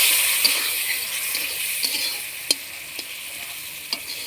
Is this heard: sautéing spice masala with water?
yes